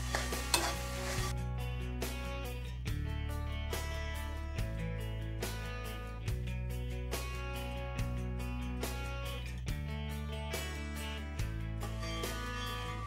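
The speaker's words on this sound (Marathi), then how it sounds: "आता हे वाटाणे पण आपल्याला चांगले हलवून घ्यायचे" Coarsely ground green peas being stirred through sizzling masala in a pan for a spicy pea chutney, a steady hiss under repeated scraping strokes, close and fairly loud with no talking.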